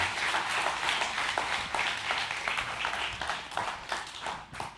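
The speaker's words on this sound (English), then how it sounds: "can you guys give Jake a round of applause this morning?" A church congregation gives a round of applause during a Father's Day morning service, fairly quiet and somewhat distant, with scattered individual claps standing out from the steady patter throughout.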